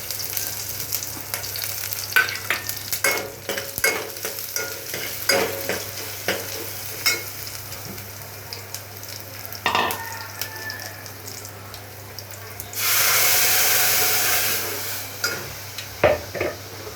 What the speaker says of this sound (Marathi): आता आपण लसूण घालूया ठेचलेला, हे राई जिरं आणि कढीपत्त्याची पान।